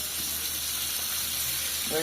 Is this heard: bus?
no